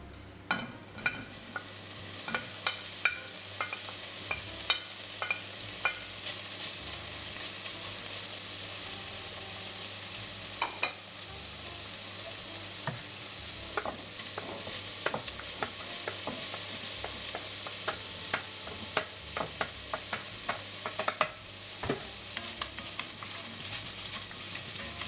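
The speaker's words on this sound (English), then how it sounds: "we're going to fry our bacon and onions now." Bacon and onions frying in a pan on the stove for ground beef with black beans, a steady close sizzle with occasional scraping stirs and faint pops, no talking.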